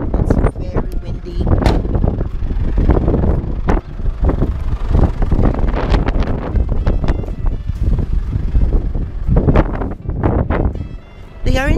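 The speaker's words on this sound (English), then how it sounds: "It's very windy." Strong gusty wind buffets the microphone with a steady low roar at a boat launch on Hindmarsh Island, while voices talk over it outdoors.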